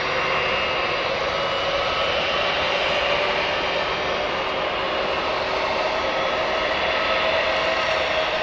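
A British Airways jet departs Newcastle Airport, its engines producing a loud, continuous roar that holds steady throughout with no voices.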